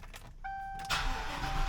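A car that has been sitting unused for a while starts up: a short starter whine, then the engine catches and settles into a steady, close idle.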